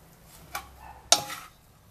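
Pork fat pieces for torresmo and lard being stirred in a pot: two distinct scraping clatters of a spoon against the pot, the second louder, with faint handling between and no talk.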